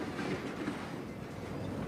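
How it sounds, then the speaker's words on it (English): Ordinary freight cars roll along railroad tracks with a steady clickety-clack of wheels, a continuous rumbling pass heard at moderate distance without voices. "This is the workhorse of the railroad, the ordinary, everyday freight car."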